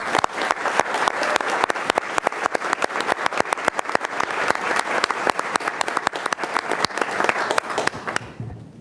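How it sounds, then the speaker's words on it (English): Audience applause at a school district board meeting, honoring award recipients such as the officer of the year and a chapter president; dense, steady clapping from a roomful of people that carries on for several seconds before cutting off abruptly. "Please give them a round of applause."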